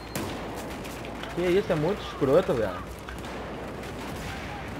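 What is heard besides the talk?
12-gauge shotgun gunfire in video game Battlefield 4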